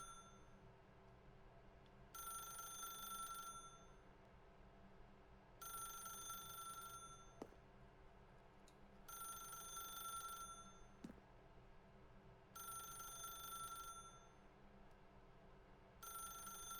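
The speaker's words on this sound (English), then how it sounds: "Is it gonna stop ringing at some point," A telephone rings in bursts inside The Stanley Parable: Ultra Deluxe, with five steady electronic ring tones about two seconds apart, each followed by a pause. A low hum runs underneath and a couple of faint clicks fall in the gaps.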